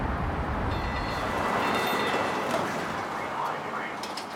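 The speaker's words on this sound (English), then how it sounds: "We get back on the train" A moving train rumbles and rattles along the rails in a loud, continuous wash of noise, with faint high squeals and tonal whines drifting through.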